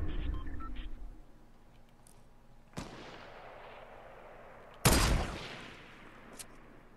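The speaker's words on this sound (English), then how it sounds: "Everyone's shooting at me." Gunfire in a video game: two sharp, loud shots with booming echoing tails, the second closer and heavier, over a low rumble and faint distant reports.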